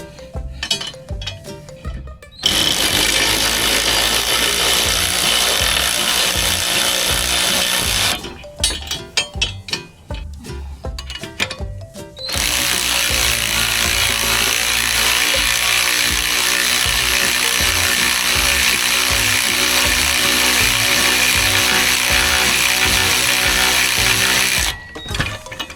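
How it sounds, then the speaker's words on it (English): A trailer spare tire mount is bolted down with a wrench and socket, giving long stretches of loud, buzzing power-tool noise with metallic rattling, broken by brief gaps of clinks and handling sounds. "So you just need a wrench for the head and then a socket for this."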